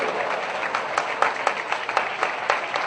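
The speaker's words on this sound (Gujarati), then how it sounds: "આજે તમે બધા એકવાર જોરદાર તાળીઓ કરો" Audience applause at a religious festival gathering, a short burst of dense, fairly loud clapping with uneven peaks, heard without speech over it.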